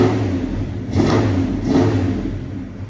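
A 1970 Buick Skylark V8 with headers and a Flowmaster 40 Series exhaust rumbles loud and close, swelling through two quick revs over a deep, steady burble.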